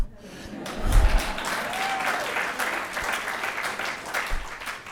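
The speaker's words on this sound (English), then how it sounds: "Give yourself a round of applause for coming out." An audience at an artist talk claps in a steady round of applause that fills the room at moderate loudness, with a voice speaking over the start.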